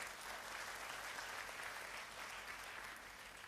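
A church congregation at a sermon applauds steadily, a broad even wash of many hands clapping, fairly faint and continuous throughout.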